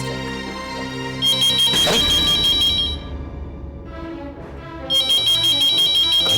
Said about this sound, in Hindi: घंटी तो उसके बेडरूम में बज रही।